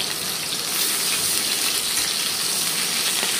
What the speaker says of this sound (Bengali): পটলটা একটু নাড়িয়ে চাড়িয়ে ভালো করে ভেজে নিলাম।